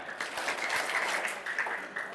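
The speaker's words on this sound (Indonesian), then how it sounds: "3 tepukan." A classroom of school students claps in unison, a brisk, crowded patter of hands that lasts around two seconds, close and fairly loud.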